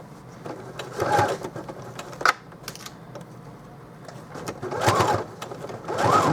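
A sewing machine back stitching through a thick Dollar Tree placemat for a backpack, with short bursts of rapid needle clatter separated by pauses and small handling noises.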